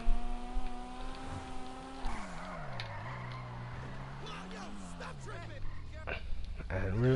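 A Toyota Supra modeled on Paul Walker's car in Grand Theft Auto 5 revs and sweeps through tight turns, its engine tone rising and falling with faint tire noise, while someone talks over it throughout.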